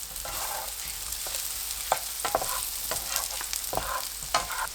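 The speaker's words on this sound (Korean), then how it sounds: "고운 소금 1꼬집, 후추 1꼬집 넣고 섞어주세요." Button mushrooms fry in butter in a hot pan with fine salt and pepper, a steady sizzle broken by scraping stirs of the spatula at close range, with no one talking.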